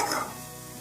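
Vegetables being stirred in a frying pan while making chicken momos, a short soft scrape and sizzle that fades after a brief louder start, close by with no talk.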